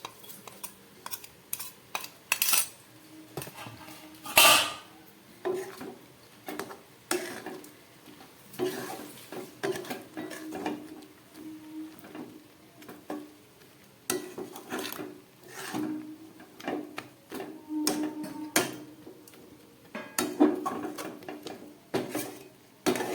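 Fried ground spices being stirred into a jujube (kul) pickle, with repeated scraping, clinking and stirring strokes of a utensil against a bowl or pan, close and moderately loud, with no talking.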